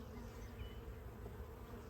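A dense, steady hum of many bees buzzing together in an open hive during a hive inspection, continuous and close, with no voices.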